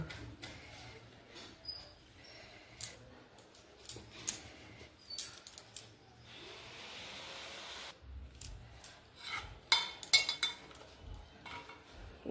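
A small knife cutting a bottle gourd, giving a string of light, close clicks and taps at an uneven pace, faint overall with brief pauses and no speech.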